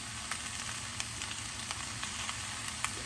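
Half a leek and fennel with a pinch of salt sautéing in a pan for vegetable soup, giving a soft, continuous sizzle with faint ticking crackles, heard close and alone.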